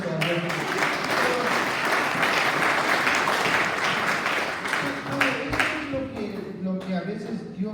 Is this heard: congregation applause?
yes